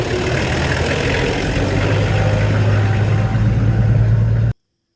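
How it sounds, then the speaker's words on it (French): A car driving along a road toward Mount Cameroon, its engine droning steadily and close with a low hum throughout, ending in an abrupt cut to silence. "Une première étape que nous parcourons en voiture."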